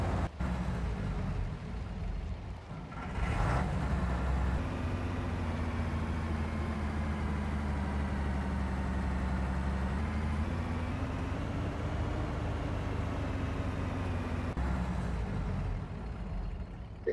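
A modified tractor in Farming Simulator 19, its engine running with a steady low droning hum and a slowly shifting pitch, a brief hissing burst near the start and another toward the end.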